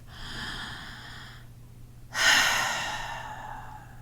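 Pranayama yoga breathing at the start of a session: a long steady exhale through the nose, a brief pause, then a sharper, louder inhale that slowly fades, close to the microphone with a faint hum beneath and no talk.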